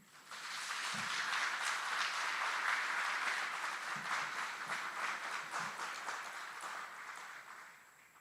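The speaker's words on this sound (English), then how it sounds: "Please join us in giving a round of applause to these outstanding drill sergeants and instructors." Audience at an Army aviation brigade graduation ceremony at Fort Eustis applauds drill sergeants and instructors, steady distant clapping swelling then tapering off in a large hall, fairly faint overall.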